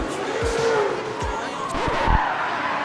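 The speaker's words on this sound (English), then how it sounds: "We got people doing burnouts." Cars doing burnouts and drifting at a nighttime car meet, with several sharp tire squeals and engine surges over crowd noise, loud and fairly close, a few short screeches sliding up and down in pitch.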